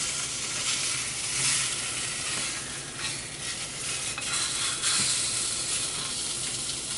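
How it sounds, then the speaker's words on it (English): Tuna steak searing in a hot pan, a steady loud sizzle and hiss running throughout with a few brief stirring or shifting clicks, no voices. "So there is it searing in the pan."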